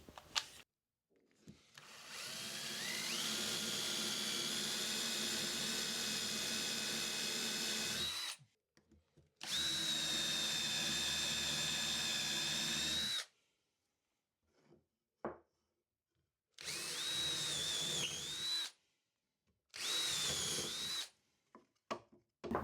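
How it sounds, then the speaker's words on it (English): A power drill with a Forstner bit whines as it bores into wood in several long bursts separated by pauses, the pitch dipping slightly under load, with no talking. "I'm going to drill down with a Forstner bit so I can recess the bolt heads"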